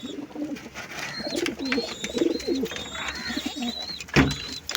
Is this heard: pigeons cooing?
yes